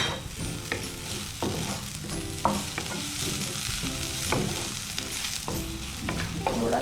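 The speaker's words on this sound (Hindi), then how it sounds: "थोड़ा सा हमने इस तरह से सौते किया" White and green onions sautéed in a pan hiss loudly and continuously up close, with repeated scraping strokes of a spoon stirring through them at an uneven rhythm and no voices.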